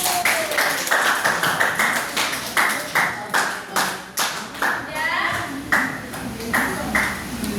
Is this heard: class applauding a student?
yes